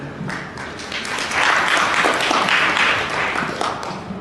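Audience applause for panelists at a technology conference session, sustained dense clapping that swells in the middle and stays strong to the end.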